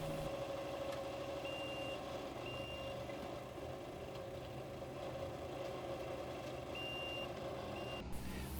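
A Kubota 97 loader stockpiling topsoil and feeding a screener sounds a series of high reversing beeps over a steady idling engine rumble and machinery drone, heard from a moderate distance.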